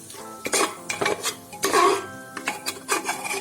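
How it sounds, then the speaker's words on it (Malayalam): Ground onion and tomato paste being stirred in oil inside a pressure cooker for chicken curry: close, irregular scrapes and clinks of a spoon against the pot over a light sizzle, with no talk. "ഇവിടെ നല്ലതുപോലെ ഇളക്കണം."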